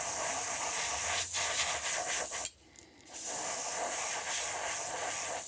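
Spray paint hisses from a can onto a crankbait fishing lure being custom painted, a continuous close spray with one brief pause midway before resuming.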